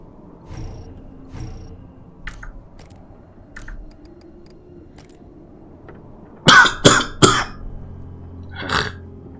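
A person coughs several times in a close, loud burst of harsh hacks after a quiet stretch with faint clicks and rustling, ending with a final softer cough.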